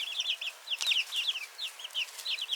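Hens and roosters in a barn flock cluck in repeated short bursts, moderately close and steady, with no one speaking.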